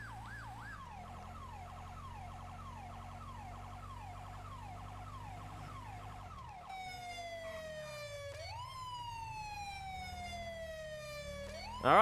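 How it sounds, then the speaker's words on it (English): Police car siren from the GTA LSPDFR game, a Blaine County Sheriff unit, wailing and yelping continuously over engine rumble, shifting pattern midway and staying loud and close throughout with no talk. "we'll go ahead and kill the siren"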